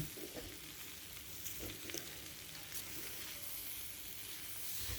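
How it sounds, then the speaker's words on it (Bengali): Gobindobhog rice frying in a pan with potatoes, raw jackfruit, chickpeas and peas, a continuous sizzle with scraping stirs throughout, close and steady with no talking. "দেওয়ার পরে ভালো করে নেড়ে চেড়ে চাল এবং সব কিছু যখন ভাজা ভাজা হয়ে আসবে"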